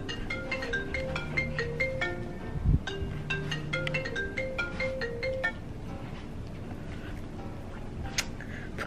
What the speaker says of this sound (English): Of course, my phone rung.